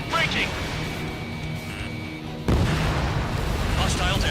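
Missiles streak and explosions boom in the aerial combat game Ace Combat 7, a rumbling barrage that bursts louder halfway through, with radio chatter and voices under the blasts.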